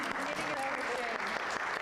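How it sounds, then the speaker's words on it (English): An audience at a climbing storytelling event gives a brief, steady round of applause while people talk over it. "Give Judy a round of applause here"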